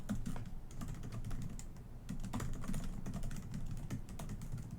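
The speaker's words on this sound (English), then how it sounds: "I'm typing" Steady, rapid typing on a computer keyboard, with dense clicking keystrokes close by and fairly quiet. No voice is heard.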